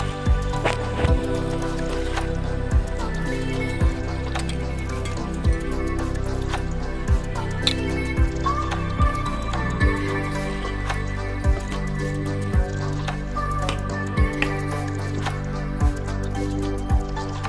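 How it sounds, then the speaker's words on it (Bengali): A cauliflower curry seasoned with turmeric, chili powder and salt is stirred in a pan, giving soft wet squishing and dripping sounds throughout, set against steady background tones. "এবার একটু লেড়ে নেব।"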